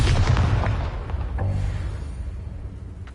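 A spell explosion in the Hogwarts Legacy video game bursts loudly at the start with a deep boom, followed by a crackling rumble that slowly decays over a few seconds.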